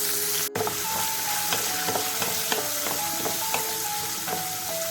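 Dried red chillies and coconut pieces fry in hot oil for Kerala onion theeyal, a loud close crackling sizzle with repeated clinks of a spoon stirring through it.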